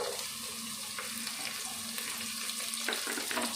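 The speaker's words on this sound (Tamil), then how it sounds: "வெங்காயம் நல்லா வதங்கிருச்சு. இதில் இந்த காய்கறியை சேர்த்துக்கிடலாம்." Onions and vegetables for a vegetable biryani sautéing in a pan, giving a steady, close sizzle and frying hiss with faint stirring scrapes throughout, and no talking.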